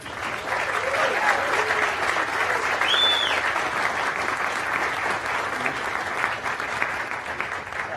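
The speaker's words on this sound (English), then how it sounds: "So give yourselves a round of applause" A conference audience at a festival tent gives sustained applause, dense clapping from many hands holding steady throughout with a brief whistle rising above it.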